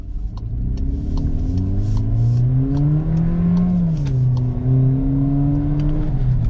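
Inside a Volkswagen Passat GTS in Sport mode, the engine sound emulator fills the cabin with a smooth, rising and easing drone as the car accelerates. It is steady and fairly loud, and no one speaks over it.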